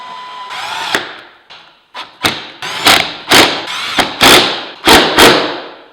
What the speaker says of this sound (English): I'm using an impact on a carburetor that's supposed to be like delicate